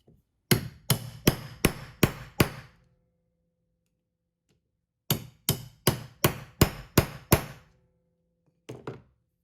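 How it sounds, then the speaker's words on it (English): Sharp metallic hammer strikes ring out on punch and setting tools while holes are punched and copper rivet washers are driven onto a leather knife sheath: two rapid bursts of six or seven evenly spaced blows, then two final taps. "I use this tool here to punch the hole for the rivets, and this tool here to drive the copper washers on"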